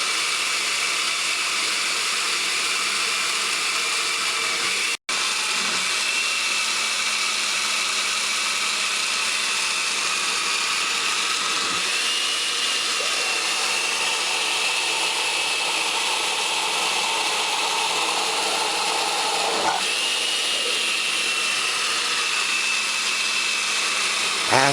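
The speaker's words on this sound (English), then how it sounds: "make sure that the blender is able to rotate freely" A blender runs steadily, pureeing homemade chicken seasoning with water, a loud continuous whirring motor that cuts out for an instant and then resumes, with slight pitch shifts as the contents churn.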